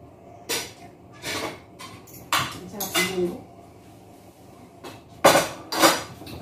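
A metal cooking pot holding pancit is handled in a kitchen, giving several separate clanks and knocks spread over a few seconds. A voice speaks between the bangs.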